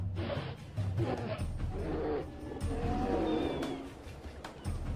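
Deep, rough roars and growls from a polar bear, a large wild animal, rising and falling in several long bursts at close range, loud and unaccompanied by talk.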